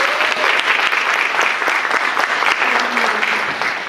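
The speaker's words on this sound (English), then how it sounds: "I'd like for us to give her a round of applause" An audience applauds a colleague being honored, brisk steady clapping with a few individual claps standing out, fading slightly toward the end.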